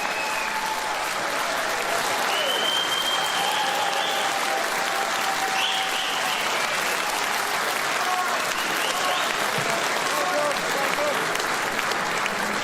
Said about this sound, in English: this is the first time ever that a crowd in Sunderland have stood up and cheered you